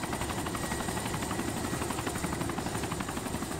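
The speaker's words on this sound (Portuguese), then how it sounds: "Olha o helicóptero, espera aí." Helicopter in a video game, a steady, dense rotor whir that holds evenly throughout at moderate loudness, with no talk over it.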